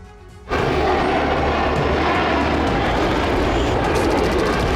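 Fighter jets of the US and British forces heading toward Yemen, a loud, steady roaring rush that swells in abruptly after a brief quiet moment and holds close and constant to the end.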